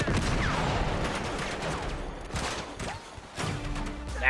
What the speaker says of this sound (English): I'm getting shot up. Getting shot up.